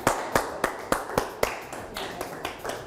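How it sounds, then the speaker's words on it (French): Studio audience applause at a French TV game show, heard as a run of sharp, evenly spaced claps that stand out over a crowd's softer clapping and stay fairly constant for a few seconds. "Allez, applaudissements."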